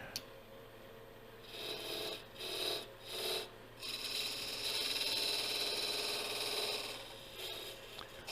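A woodturning tool cleans up the bottom of a turned wooden piece on the lathe, giving a continuous scraping rasp that swells and dips in a few surges before settling into a longer even cut.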